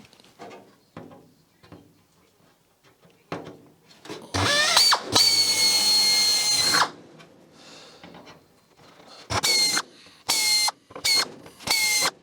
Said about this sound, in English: So we'll go ahead and drill these